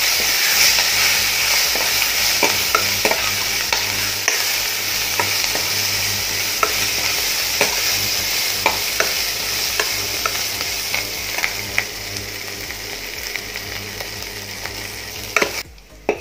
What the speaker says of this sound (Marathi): हिंग टाकायचं हळद आणि हे व्यवस्थित असं परतून घ्यायचं